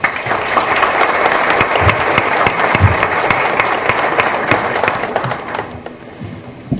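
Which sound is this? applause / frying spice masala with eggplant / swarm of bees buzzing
applause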